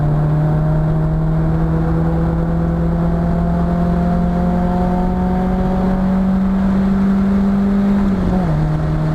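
Nissan S13 240SX engine held at full throttle on a track, a loud steady in-car drone with rising harmonics that dips briefly near the end as if shifting or lifting.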